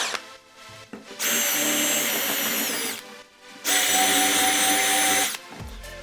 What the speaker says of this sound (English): That's simply done just by drilling off the heads of the rivets